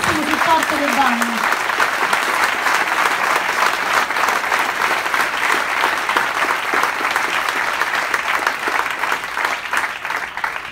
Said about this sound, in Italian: Let's give them a hand for all the support.